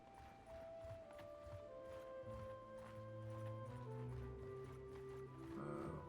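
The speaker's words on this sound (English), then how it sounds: "I must have over 100 horses." Over 100 horses move together in the Bannerlord video game, a steady clatter of many hooves under sustained musical tones, with occasional neighs.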